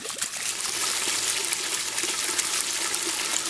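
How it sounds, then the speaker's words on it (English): Water gushing steadily through an open cleanout cap of a septic drain field (leach bed) while the system runs at full, flushing debris out; a continuous close, even rushing hiss with no talk. "Now it's flushing out all of the debris"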